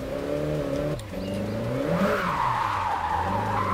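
Car tires skid and squeal during a drift in Japanese Drift Master, loud and sustained over a revving engine whose pitch rises and falls, with a brief dip near the one-second mark.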